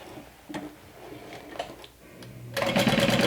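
A sewing machine stitches through shiny, sticky vinyl, starting suddenly after a few soft handling clicks and running as a dense, rapid mechanical chatter through the final second.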